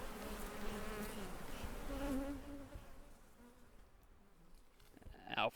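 A dense swarm of bees hums steadily around a large multi-tiered beehive, the buzzing loud at first and easing slightly later, with a brief sharper burst right at the end.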